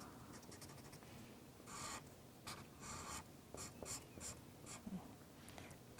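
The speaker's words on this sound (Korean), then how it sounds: "그리고 D의 1번, 그리고 E의 1번까지 색을 칠해 보겠습니다" Marker or pen coloring in grid cells on a board during a science lecture, scratchy strokes in short irregular bursts, close and with no speech.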